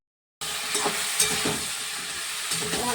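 Ground salt, coriander, cumin, chilli and turmeric powders sizzle and fry in oil with a Tengra fish and onion-green curry, a spatula scraping and stirring them in steady bursts after a short silent start; no voices.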